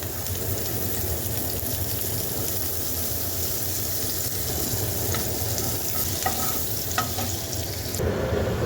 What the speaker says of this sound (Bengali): এরপরে দিয়ে দেব রসুন কোয়াগুলো